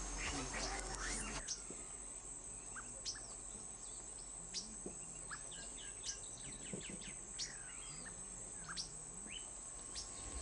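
Sabiá thrushes singing in the morning, with repeated clear chirps and phrases spread through the clip, over a steady hum of insects and crickets in the background.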